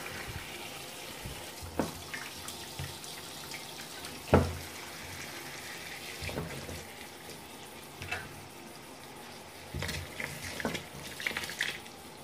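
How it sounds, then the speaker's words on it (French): Cauliflower is rinsed under a strong stream of running tap water in a kitchen sink, a steady splashing hiss with occasional louder gushes and clinks. "je vais laver sous une eau abondante"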